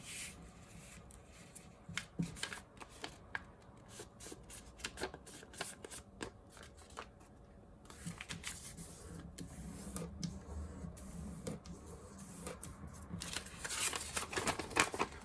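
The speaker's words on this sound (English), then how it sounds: "fold it over to this edge, so we're folding the paper in half again" Paper is folded in half while making an origami rabbit: soft crinkles, creases and rubbing swipes come up close and quiet in irregular bursts, with no talking.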